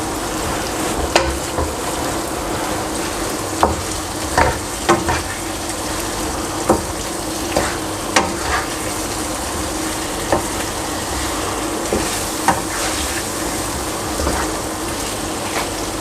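Ginger chicken pieces with spices and crushed red chilli flakes cook in a pan under a broad, steady sizzle, with occasional clear knocks and scrapes from stirring spread through the span and no voice.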